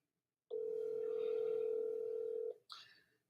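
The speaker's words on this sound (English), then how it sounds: "let me call Reggie on the phone real quick" A steady telephone dial tone sounds loud and close for about two seconds when a phone call is placed, then cuts off, followed by a brief softer tone or beep.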